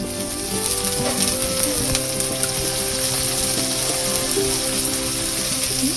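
Dried shrimp, dried chilies, bay leaf, cumin, green chilies and onion sizzle in hot oil in a wok, a steady dense frying hiss with scattered crackles and faint clinks throughout.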